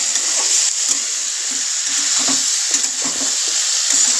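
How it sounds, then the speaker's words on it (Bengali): Cauliflower and potato pieces frying with spices in a pan, a continuous close sizzle with rhythmic scraping stirs every half second or so, no talk. "এইবার ভালো করে মশলার সাথে ফুলকপি আলুটাকে ভালো করে কষিয়ে নেব"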